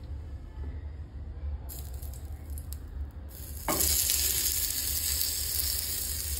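Fish fingers dropping into very hot oil, a steady crackling sizzle that swells into a louder, brighter hiss midway and holds close and continuous with no talk.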